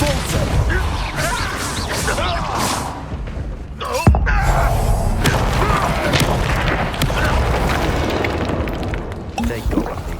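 A Confringo spell explosion in Hogwarts Legacy, a sudden loud blast and crashing boom that cuts into busy game sounds and voices, followed by a sustained rumbling roar.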